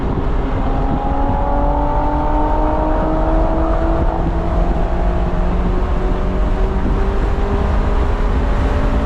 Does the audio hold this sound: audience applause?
no